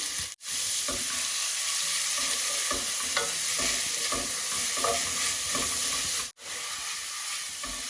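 Onions sizzle and fry steadily in hot oil with bay leaves and fenugreek seeds, a loud continuous crackle with occasional stirring clicks, heard alone without talk.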